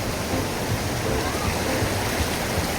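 Creek water flows in a dense, loud, continuous rush close by, steady throughout like a small cascade, with no clear talk over it.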